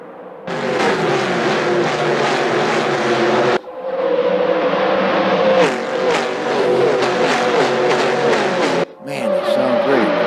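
A 1971 Plymouth GTX NASCAR race car runs loud and close, its rough engine note swelling and easing through two long passes with brief throttle changes, while a voice is faintly heard beneath.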